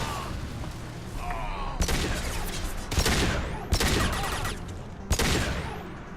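Pistol gunfire in the video game Mass Effect 2, with several sharp, loud shots cracking at irregular intervals over dense, continuous combat noise and rumble.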